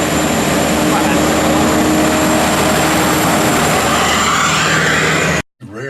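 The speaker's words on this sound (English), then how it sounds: "I thought it was your drone you had with you." A camera drone buzzes overhead during a motorcycle trip on the Mae Hong Son loop in Thailand. Its steady whine sits under a loud, constant wind roar, and the sound cuts off abruptly near the end.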